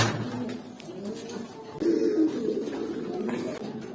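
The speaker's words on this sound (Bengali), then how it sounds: "এই যে এইখানে দেখেন আরেকটা জাবরা পাখি পেয়ার" Jabra pigeon pair cooing in a loft, soft low coos repeating close by over faint background noise, with one fuller cooing phrase near the middle.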